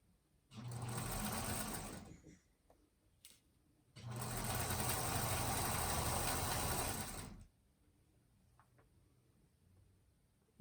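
A sewing machine stitches a table runner border in two bursts, a short run then a longer steady run of rapid mechanical whirring, with quiet pauses and small clicks between.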